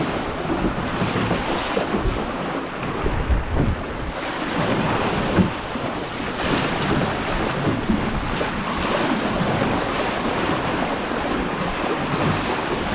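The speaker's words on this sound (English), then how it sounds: "Just trying to stop the bow from digging into the next wave." An RS600 sailing dinghy thumps through ocean waves while spray and water rush past the hull and steady wind buffets the microphone, loud and continuous, with no talking.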